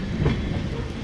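A train rolls along the rails after pulling out of Gonda Junction, with a steady loud rumble and rattle heard from inside the carriage and no voices.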